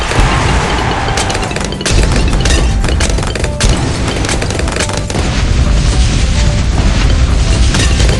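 Fire bomb blasts going off in the tower defense game Bloons TD6, a dense, continuous barrage of loud booms and crackling bursts that overlap one another throughout, with no voices.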